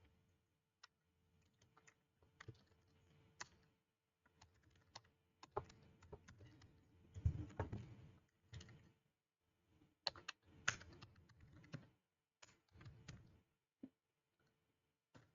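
Scattered, irregular keystrokes and clicks on a computer keyboard during coding work in a Blazor WebAssembly project, faint and close, in short flurries separated by quiet gaps.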